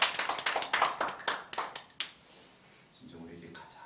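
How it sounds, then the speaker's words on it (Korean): A church congregation at a Sunday worship service claps together for about two seconds. The claps are crisp and moderately loud, then thin out and fade into a quiet room. "우리에게 은혜 주신 하나님께 영광의 박수 올려드리겠습니다."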